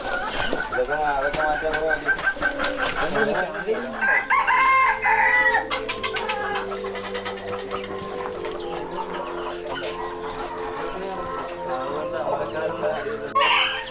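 An Aseel chicken being lifted out of its cage on a Kerala poultry and pigeon farm, with repeated clucks and crowing calls mixed with other fowl and pigeon sounds and voices in the background.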